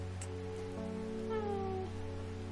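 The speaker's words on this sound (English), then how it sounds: "Just the sound of the rain and the cat." Soft, steady rain in the Strange Horticulture video game, a quiet hiss beneath a sustained tonal hum, with a brief faint cat meow partway through.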